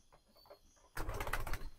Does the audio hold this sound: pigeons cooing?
yes